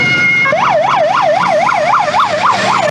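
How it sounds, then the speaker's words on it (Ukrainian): A fire engine carrying three tons of water arrives at a brush fire with its siren wailing loud and steady throughout, rising and falling in a regular sweeping cycle over road engine noise. "За декілька хвилин під'їжджає і пожежна із 3 тоннами води."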